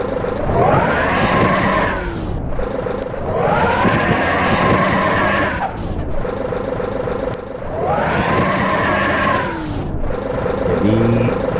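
Hino RK8 bus engine in Bus Simulator Indonesia revving through its exhaust, three long roaring surges that rise and fall between quieter idle stretches, loud and close with a slightly raspy growl.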